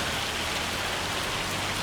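Lashing heavy rain in Farming Simulator 25 pours as a loud, dense, unbroken hiss with no gaps.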